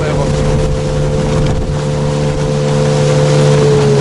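A motorboat driven by a Mikatsu 9.8 outboard motor, a loud, steady engine drone with constant pitch, heavy wind buffeting and rushing water around it.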